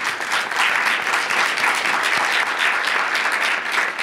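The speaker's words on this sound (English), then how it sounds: "give yourselves a round of applause for that work" Steady, dense audience applause at a Department of Corrections state-of-the-department presentation, sustained and even throughout with no voices rising above it.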